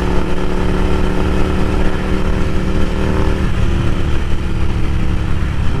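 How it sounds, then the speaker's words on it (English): A Ducati Scrambler Café Racer fitted with a Vance & Hines exhaust rumbles loudly and steadily nearby, its deep engine drone holding an even pitch with a slight shift partway through. "the sound that comes from this Vance Hines definitely fits the character of this bike anyway"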